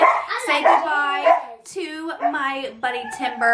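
A dog barks and yips indoors, its short, loud bursts mixed in with a person talking close by throughout.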